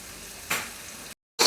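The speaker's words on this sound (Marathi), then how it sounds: "इथं मम्मीने मस्त फोडणीला टाकलं फ्लॉवरची भाजी करायची" Tempering spices hit hot oil for a cauliflower curry, sizzling close and loud in short bursts, with a brief cut to silence before the hiss resumes.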